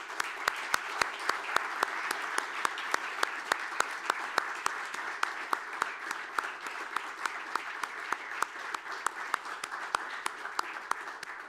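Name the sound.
audience applause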